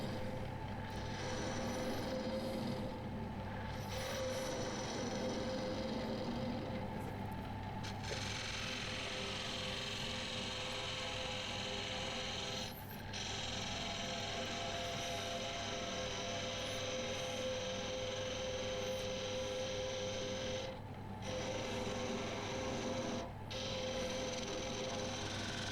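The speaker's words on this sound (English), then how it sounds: "it's now turned round in the lathe, just taking the tenon off, ready to start hollowing it out" A wood lathe spins a bowl while the tenon is cut away, giving a steady motor hum with a buzzing cutting noise and brief pauses in the cut.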